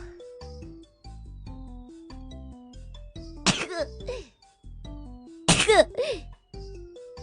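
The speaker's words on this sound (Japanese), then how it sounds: "あー、くしゃみ出そう。" Two loud, sudden bursts, a sneeze or cough, break over soft background music, the second a little stronger than the first.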